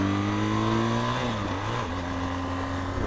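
A 2013 BMW R1200 GS motorcycle accelerates steadily under rider wind noise, its engine note climbing, dropping at a gear change, then pulling again, loud and continuous.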